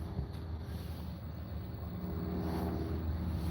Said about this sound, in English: Oh, that's an airplane.